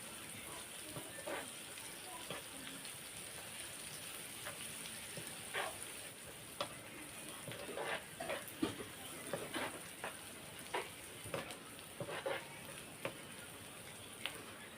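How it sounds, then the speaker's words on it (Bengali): Onion, crushed garlic and green chili frying in a pan, a faint steady sizzle with small crackles and pops scattered throughout. "পেঁয়াজ হালকা করে ভেজে নেওয়ার পর দিয়ে দিলাম থেতলে নেওয়া রসুন।"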